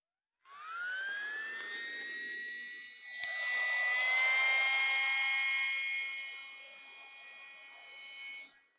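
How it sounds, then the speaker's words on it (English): A cheap Walmart Intex electric air pump starts up with a rising whine, then runs at a steady high-pitched drone with a shift in pitch partway through, close and continuous before cutting off. "It's a cheap Walmart Intex pump for pumping really anything up"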